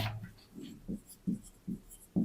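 Marker or chalk writing on a board during a maths lesson on polynomials, a run of short soft strokes and taps, close and fairly quiet, with no voice over them.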